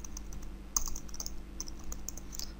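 Quick, light taps on a computer keyboard while entering Python code, a short burst of close, crisp keystrokes in a quiet room.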